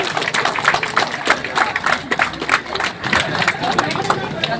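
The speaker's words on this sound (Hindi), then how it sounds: "तालियां बजाएं क्योंकि सरकार ने तालियों में जीएसटी नहीं लगाई है" An outdoor crowd at a rain-soaked monsoon marathon prize ceremony claps in a dense, scattered patter, with chatter and a voice mixed through the applause.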